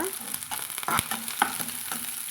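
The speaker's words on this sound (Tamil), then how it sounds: "ஒரு ஒரு நிமிஷம் நம்ம இதை வதக்கலாங்க" Steady sizzling of chopped garlic sautéing in a pan, with occasional clinks and scrapes of stirring, close and moderately quiet.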